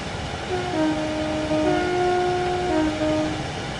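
A freight train in the video game Train Sim World 2 runs with a steady rumbling rail noise, and a sustained two-tone horn sounds over it for a few seconds.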